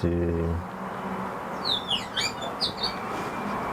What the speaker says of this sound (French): Mais c'est bien les oiseaux qui chantent.